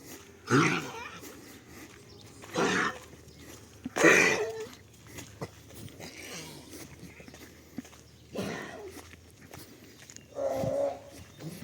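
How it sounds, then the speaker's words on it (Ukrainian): A dog barks a few times at a distance, short separated bursts over quiet outdoor ambience. "То собака, то не я."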